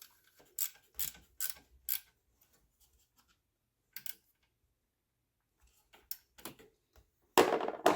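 A ratchet tightens a 10mm nut on an alternator during a thermostat and clutch fan job on a Trailblazer Envoy, giving short bursts of crisp close clicking separated by quiet pauses, with a louder rattle at the end.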